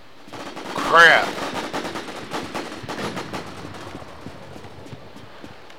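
Gunfire from snipers in the free-to-play survival shooter The War Z, with a loud shot burst near the start followed by scattered quieter shots and rumbling effects, while someone speaks briefly.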